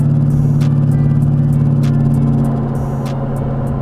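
A Lexus LS400 idles with a steady, loud, low rumbling drone, close up and unbroken, a faint tick or click recurring above the engine note.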